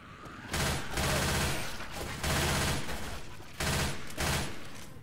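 Three long bursts of rapid automatic gunfire from Left 4 Dead 2, loud and dense, each lasting over a second, with brief quieter gaps between them.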